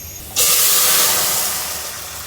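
Eggplant slices hit hot oil in a pan, bursting into a loud, sudden sizzling hiss that stays strong and slowly eases over a couple of seconds, close and alone.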